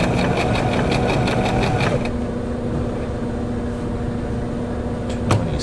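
A Brother XL3750 sewing machine, just reassembled, runs a decorative test stitch with a steady close whirring hum and a rhythmic needle pulse early on, then settles into a smoother drone.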